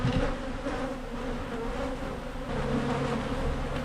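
Dense, steady buzzing of many bees swarming close around a wild hive being cut out of a chest of drawers, a continuous droning hum with shifting pitch and no voices.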